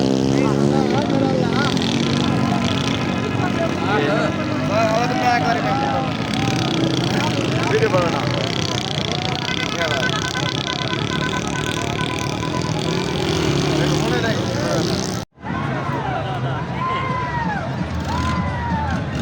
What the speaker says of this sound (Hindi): आप देख सकते हैं बाइक मुकाबला, ये मोटरसाइकिल बाइक।